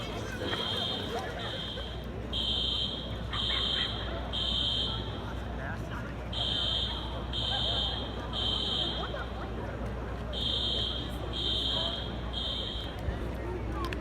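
A college dormitory fire alarm sounds at midnight in repeated high-pitched electronic bursts with short gaps, over a steady background of murmuring voices and room noise.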